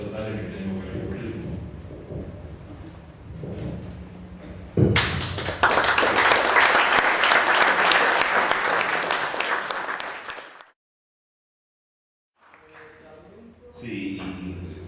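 An audience at a talk on crimes against humanity trials bursts into loud, sustained applause lasting several seconds after lighter tapping and speech, then stops abruptly before a few scattered claps resume.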